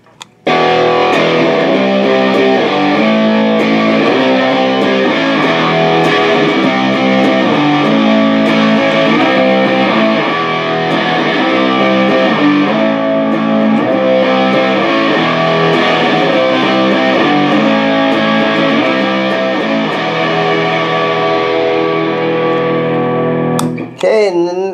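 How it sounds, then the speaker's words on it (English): A heavily distorted electric guitar through a ProCo Rat distortion pedal plays a thick, gritty riff continuously for a long stretch, loud and close, ending abruptly. "We got the Proco Rat pedal."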